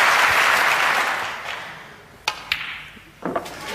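Applause from a snooker crowd at the Wembley Conference Centre, loud at first and then fading, followed by a few sharp clicks of balls striking.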